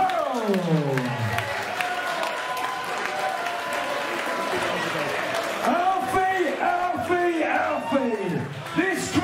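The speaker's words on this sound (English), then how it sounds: "So I want a big round of applause for this man, Benjamin Murrell." Crowd applause and cheering at a boxing event after a fight, a continuous wash of clapping with whoops, heard under a ring announcer's amplified voice throughout.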